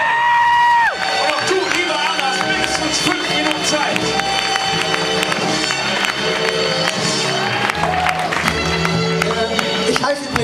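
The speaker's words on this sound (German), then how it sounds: "Ein Riesenapplaus für Arne." A live crowd at a 2008 erotic poetry slam in Zurich claps and cheers for a slam poet, opening with a sharp whoop and settling into sustained applause with scattered shouts.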